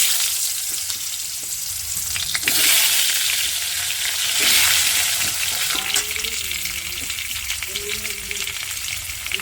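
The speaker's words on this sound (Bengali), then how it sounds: "আমি আলুগুলো ভেজে নেব" Potato pieces fry in oil in a wok, left over from frying eggs for an egg curry. The sizzle is loud and continuous, surging in waves, with occasional clatter from stirring nearby.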